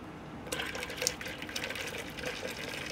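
Hot water pours into freshly brewed coffee to dilute it, a thin steady liquid stream with small splashy bursts, close and fairly quiet.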